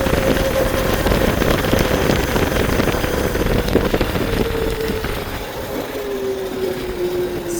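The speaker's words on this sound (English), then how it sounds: "starting to rain. I can feel it." Rain falls steadily in a dense, hissing wash that stays loud and close throughout, with a faint tonal hum running beneath it.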